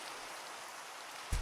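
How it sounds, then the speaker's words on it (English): Steady rainfall in the video game Minecraft, a soft, even hiss that stays quiet and unbroken throughout, with a brief low thump right at the end. "Oh, it's raining."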